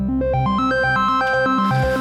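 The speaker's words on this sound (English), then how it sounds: "what you're hearing right now is it's sweeping through the ratio for our carrier wave" An Elektron Digitone synthesizer pad with reverb sweeping through its carrier ratio, playing repeating stepped arpeggio-like tones that climb and fall in pitch, loud and continuous with no talking.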